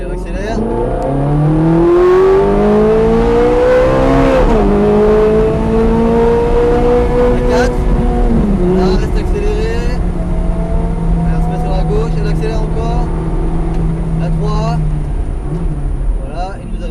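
Ferrari F430 Scuderia engine accelerating hard on a race track, a loud steady high-revving drone that rises through gears with a shift near the middle, continuous over the whole stretch and close to the listener.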